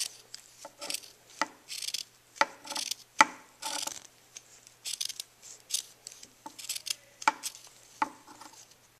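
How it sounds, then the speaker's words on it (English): Scissors snip through a square of t-shirt fabric in a quick series of crisp, close cuts, each blade closing in a short dry crunch, with brief pauses between bursts. "First, you have to take your t-shirt and cut. You have to cut a medium-sized square of fabric."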